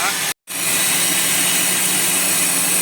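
A loud, steady blast of compressed air hisses continuously through an engine's oil filler, flushing out old oil at a Shell fuel station, after a brief silent gap, with a mechanical rumble underneath.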